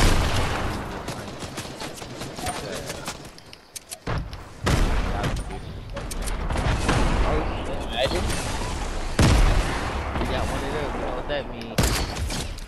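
Rockets and gunfire in a Fortnite match make a dense, continuous barrage of booms and rapid shots, loud and close, with a voice talking over the fire.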